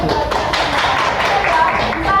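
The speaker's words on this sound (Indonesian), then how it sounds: "Tepuk tangan dong." A classroom of students claps together during a microteaching lesson. The short, steady burst of applause is close and loud, with some talk mixed in.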